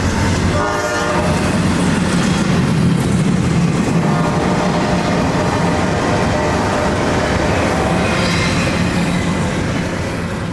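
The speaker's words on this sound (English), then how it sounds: "we're greeted with a double-stack container train, southbound I-177, a southbound intermodal train from Jacksonville's intermodal ramp to Winter Haven, Florida" A southbound double-stack intermodal container train passes on CSX track in Florida, sounding its horn early before a long, loud, continuous roll of wagons with rhythmic rail clatter, no voices.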